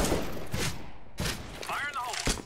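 Gunfire in a shooting video game during a team round, sharp bursts of shots spread through the stretch with loud bangs, heard alongside the players' voices.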